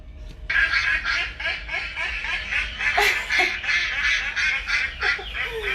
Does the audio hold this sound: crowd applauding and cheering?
no